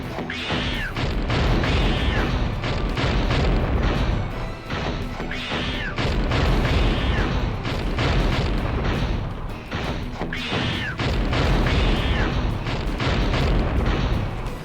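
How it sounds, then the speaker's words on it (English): Missiles in the PS1 game Wild 9 explode in repeated loud, booming crashes, arriving in regular waves of heavy blasts with scattered debris clatter between them. "Uh-oh, stinky missiles."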